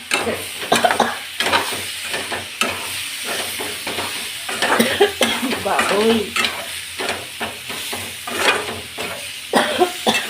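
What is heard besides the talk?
tempering sizzling in hot oil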